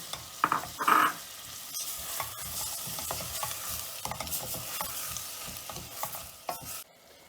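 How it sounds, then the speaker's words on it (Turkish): Steady sizzling and bubbling of peppers and tomatoes cooking in a clay pot, with a couple of stirring scrapes near the start, close and continuous. "Biberler, domatesler yumuşayıncaya kadar"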